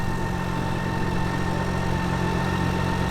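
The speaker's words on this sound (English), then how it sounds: "Sorry for the sound of my motorcycle engine there" A motorcycle engine idles steadily and loudly at close range, a continuous low rumbling drone with mechanical vibration and no breaks for the whole moment.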